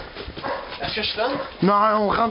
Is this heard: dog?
yes